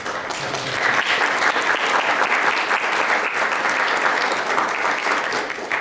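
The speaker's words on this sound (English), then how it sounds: "let's give Philip one last round of applause" Audience applause fills a concert hall after a student group presentation, a steady, dense wash of many hands clapping at close range for the whole stretch without a break.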